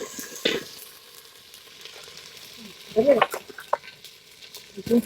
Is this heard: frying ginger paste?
yes